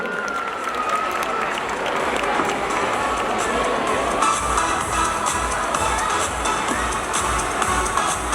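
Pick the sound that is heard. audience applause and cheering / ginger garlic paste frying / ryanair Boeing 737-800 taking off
audience applause and cheering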